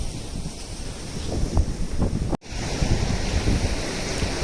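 Surf breaking on a beach churns in a steady wash, with heavy wind buffeting the microphone and a brief dropout midway.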